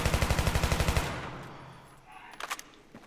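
A G36C rifle fires a fast automatic burst in Battlefield 3, about a second of sharp rapid shots followed by a fading echo and a few faint clicks.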